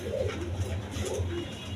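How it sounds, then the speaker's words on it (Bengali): Red checker pigeons at a farm, cooing softly in low rolling calls over a steady background hum, with no talk. "এই দেখেন রেড চেকার কবুতর"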